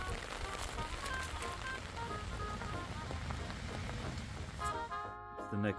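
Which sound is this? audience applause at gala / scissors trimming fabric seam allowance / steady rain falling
steady rain falling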